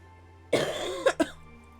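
A close, loud cough followed by two short throat-clearing bursts from one person, alone over a quiet background hum.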